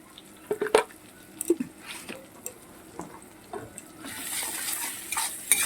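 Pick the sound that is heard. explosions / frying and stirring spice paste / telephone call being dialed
frying and stirring spice paste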